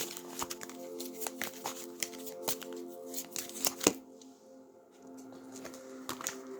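A deck of angel cards is shuffled close up, giving quick, crisp riffling and slapping bursts in irregular clusters, with a short pause near the middle and no talking.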